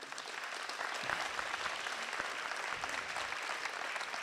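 Audience applause at a town's New Year greetings event in Cocumont, honoring press correspondents: steady, dense clapping from a crowd, moderately distant and even throughout.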